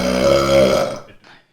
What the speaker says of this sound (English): Burp again!